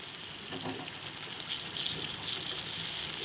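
Potatoes, spices and peas frying in a pan: a steady, close sizzle and crackle that runs throughout, with soft spitting pops and no voices.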